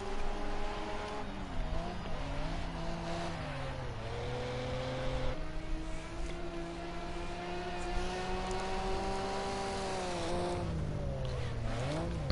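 Ford Sierra Group A race cars lapping Brands Hatch Indy, engines howling close by with steady rising and falling revs through gear changes, several cars running nose to tail, loud and continuous.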